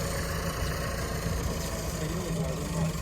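A farm motor engine runs steadily while sowing seed, a continuous loud mid-low drone with constant vibration throughout, close by, with voices faintly mixed in.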